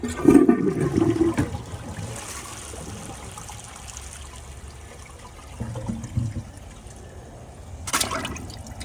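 A 2017 Glacier Bay high efficiency toilet flushes with a loud rushing gurgle at the start, then a quieter trickle as the tank refills, another gurgle midway and a sharp hiss near the end, close up with no speech.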